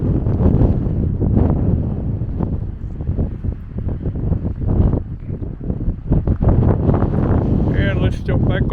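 Strong gusting wind over 20 knots roars steadily on an exposed canyon trail, buffeting the microphone loudly throughout with only brief dips in force.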